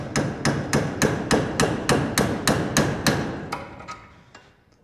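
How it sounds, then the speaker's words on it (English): Hammer beating on a socket to drive out a suspension bushing from a 1959 Impala, about fifteen sharp metallic blows in a fast steady rhythm, close and loud, trailing off into a few lighter taps. "you get the socket stuck and you have to beat it the other way"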